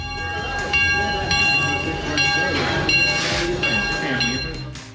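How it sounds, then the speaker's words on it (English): A train pulls in at the Six Flags Over Texas amusement park with a rumbling, clanking roll, squealing wheels and tonal horn-like whines, loud and close, with crowd chatter in the background. "When the train finally arrived, I thought it looked super cool."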